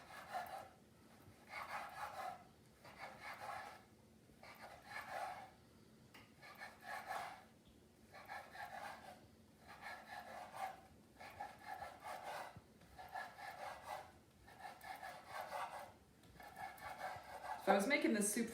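A knife cuts food into tiny strips. About a dozen soft, evenly spaced slicing strokes sound close and quiet, with a slightly louder clatter at the end.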